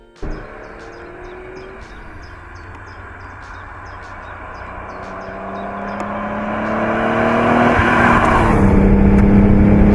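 A Ferrari 512 BBi with its 5-liter flat-12 engine runs loud and steady with no speech, its tone rising as the engine revs build toward the end.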